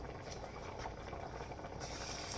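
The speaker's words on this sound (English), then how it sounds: "You want to hear that sizzling sound when you start pouring that cornbread in there." Cornbread batter poured into hot lard in a preheated pan gives a brief, steady crackling sizzle, faint and unbroken, with no talking.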